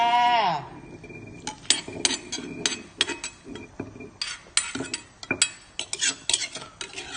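Chili paste goes into a pot of banana blossom and pork curry and is stirred in, making a run of sharp metal clinks and scrapes of a spoon against the pot. The strikes come in quick, uneven bursts, close up, with no talk.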